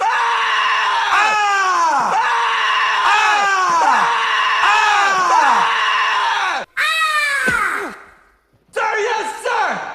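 A military recruit screams at the top of his lungs on a sergeant's order, letting out a string of loud, strained yells that each fall in pitch, with a few short breaks near the end.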